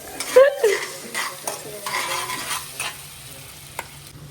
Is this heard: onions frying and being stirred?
yes